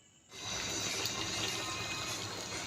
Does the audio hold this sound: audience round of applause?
no